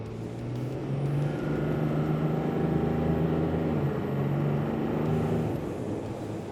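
Car accelerating hard, engine tone climbing and dropping through gear changes, steady and fairly faint from inside the cabin; any clicking from the big shocks is lost in the engine noise.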